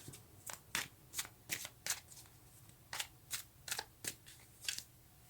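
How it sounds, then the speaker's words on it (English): Tarot cards are shuffled by hand, a series of soft, crisp riffling flicks coming in quick rhythmic bursts, close and quiet. "So we will take a card for that and see what that's about."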